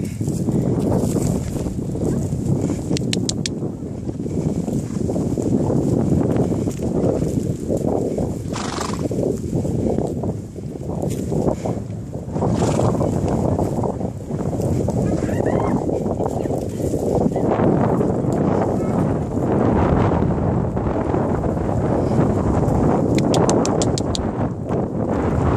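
A horse gallops in a barrel race, its hooves drumming steadily with occasional whinnies over gusty wind noise while voices call and cheer.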